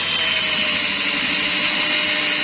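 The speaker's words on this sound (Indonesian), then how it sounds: "untuk mengebornya gunakan RPM atau putaran rendah saja" An electric drill spins at low speed stirring JADAM wetting agent, a steady, loud motor whir with a churning texture that holds evenly throughout, with no talking.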